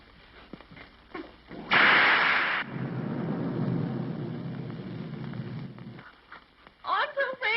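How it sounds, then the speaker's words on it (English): Film-style thunder from a 1931 comedy: a sharp loud crack followed by a long low rumble lasting several seconds, with voices talking around it. "Oh, I'm so afraid of thunder and lightning."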